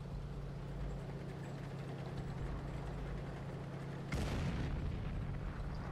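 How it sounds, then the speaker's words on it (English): Artillery shell explodes in World of Tanks during battle, a sudden loud broadband boom about two-thirds through, rising out of a steady low engine drone that runs underneath the whole time. "The artillery's coming thick and fast."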